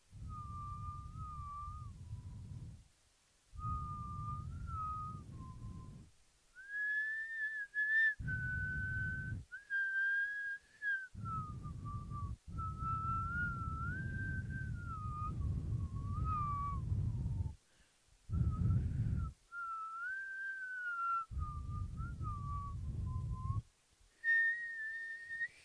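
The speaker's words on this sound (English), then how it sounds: "an album full of classic whistle greats that embody the spirit of Christmas, whistled, like this one" Silent Night whistled as a Christmas carol, a clear, pure solo melody in long sustained phrases separated by short breaths, close and alone over a soft low backing.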